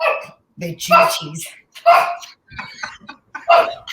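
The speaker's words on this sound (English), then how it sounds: "Excuse my dog." A dog barks a few times close by, sharp and loud, interleaved with a person talking.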